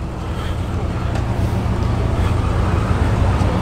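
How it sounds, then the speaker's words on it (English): A couple of old Land Rovers roll in at a classic car show at Hopley House, their engines giving a steady, close, low rumble that holds throughout without letting up. "We've got a couple of old Land Rovers rolling in."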